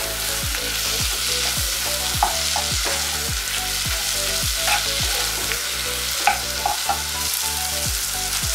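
Corned beef fries in a pan with a loud, constant sizzle and crackle. A utensil stirs and scrapes through it in a regular rhythm.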